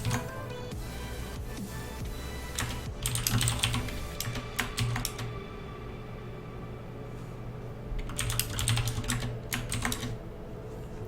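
Loud computer keyboard keys clatter in two distinct bursts of fast typing separated by a quieter stretch, close to the microphone over a constant low hum.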